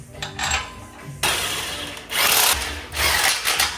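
Power tool, likely an impact driver or drill, running in loud bursts while the lower control arm bolts go back into a 2025 Toyota Land Cruiser during a 3.5-inch Rough Country lift install; close and dense, with no talking.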